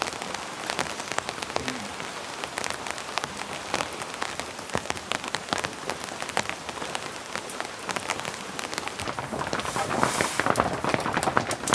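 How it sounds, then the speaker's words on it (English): Steady rain falls outside a rustic remote cabin during a heavy rainstorm, with a dense patter of drops on surfaces and a few sharper nearby hits, continuous and moderately loud with no voices. "Nice rainy morning out here."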